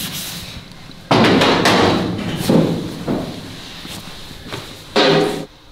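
Slide hammer on a spot-welding dent puller striking against its stop while pulling dents in BMW E36 M3 sheet metal, giving a few loud, sharp metallic thuds spaced a second or more apart over a steady background hum.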